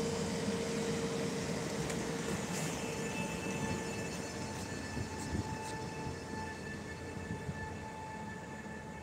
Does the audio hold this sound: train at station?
yes